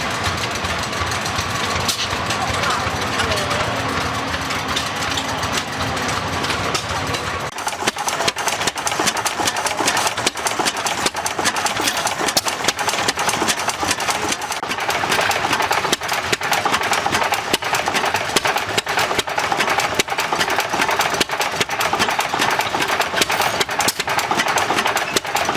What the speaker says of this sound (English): Here's a nice big old hit in this engine.